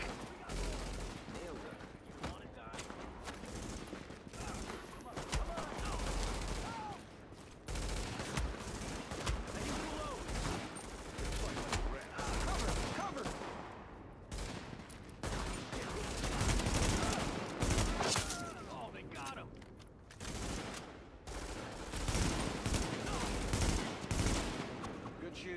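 Sustained gunfire from The Division video game, dense bursts and volleys running almost continuously with brief lulls, loud and close, with radio voices faintly mixed in.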